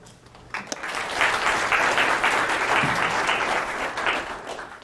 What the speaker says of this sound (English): So please welcome Myrna.